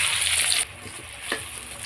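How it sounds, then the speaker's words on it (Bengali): Eggplant slices fry in hot oil in a wok, giving a loud, steady sizzle for the first half-second that then drops to a quieter, continuing crackle with no talking. "দেখো এই বেগুনগুলো ভাজা হচ্ছে"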